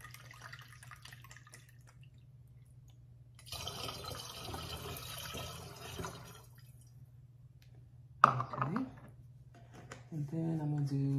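Rubbing alcohol is poured from a bottle into a measuring cup for a homemade plant bug spray, a soft, steady trickle lasting a few seconds in a quiet room, followed by a light clink and some handling noise.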